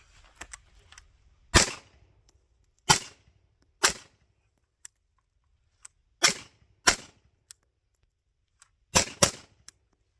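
Suppressed MK18 short-barreled rifle firing about eight sharp, fairly loud cracks in irregular singles and pairs across ten seconds, each with a brief decay, between quiet pauses.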